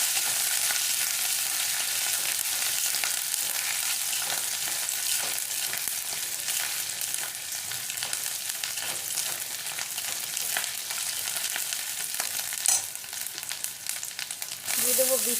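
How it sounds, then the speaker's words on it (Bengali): Ginger, green chili and vegetables fry in a pan for a vegetable chop, a loud, steady, close sizzle with occasional stirring scrapes throughout and no talking. "দেখুন একটুখানি নেড়ে চেড়ে আমি সবজিগুলো দিয়ে দেবো।"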